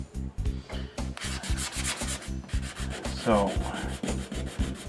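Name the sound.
sanding epoxy on a plywood canoe hull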